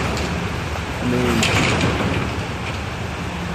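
Rain falling outside a workshop, a dense steady hiss running throughout under a brief spoken phrase, with some low rumbling noise mixed in.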